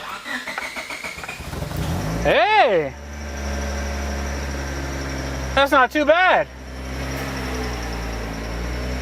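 A fake Bugatti Veyron replica that leaks fuel cranks with rising starter whines twice, then settles into a low, steady idle hum. A person exclaims briefly over the engine.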